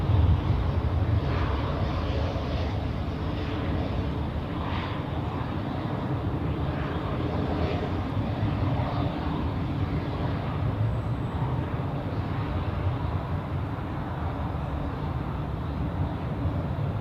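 An airliner takes off from runway 28 at Zurich Airport, a steady, broad jet roar holding at moderate distance for the whole stretch, with no talk over it.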